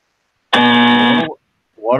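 A long, loud electronic buzzer sounds alone for nearly a second as a comedic sound effect on a weather talk show, harsh and steady with many tones, then cuts off before a voice begins speaking.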